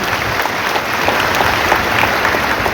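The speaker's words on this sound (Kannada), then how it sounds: "ಅವ್ರಿಗೆ ದೊಡ್ಡ ಚಪ್ಪಾಳೆಯನ್ನ ನೀವು ಹೊಡಿಬೇಕು" Audience applause at a student talent award ceremony in Mandya, a steady dense wash of many hands clapping throughout, loud and continuous with no voices over it.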